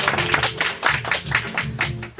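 An audience votes for a performer at a beatbox tournament battle in Ibaraki with a short burst of hand clapping, dense and fairly loud, with a few voices mixed in.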